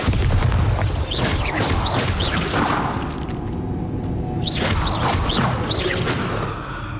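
Booming spell blasts in Hogwarts Legacy, a loud dense barrage of explosive impacts with whooshing bursts, briefly easing mid-way before another cluster of sharp blasts.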